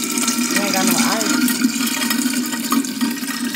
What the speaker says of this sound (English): That's ice rumbling in there.